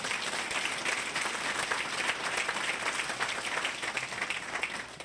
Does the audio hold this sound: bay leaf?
no